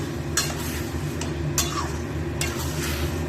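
Chicken kosha, spiced chicken cooked down in a pan, sizzles steadily while a spoon scrapes through it in several separate stirring strokes, with no talking.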